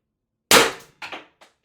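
An Umarex TR68 Gen 2 marker fires .684 S-type shaped ammo: one sharp, loud crack followed by fainter clattering impacts and a small tail, in an otherwise quiet setting.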